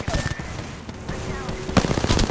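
Rapid bursts of automatic gunfire from a shooter video game, a busy mid-distance crackle of shots with a sharper close burst near the end, mixed with game effects.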